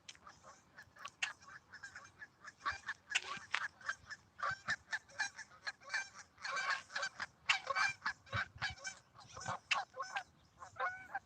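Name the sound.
goose honking while taking off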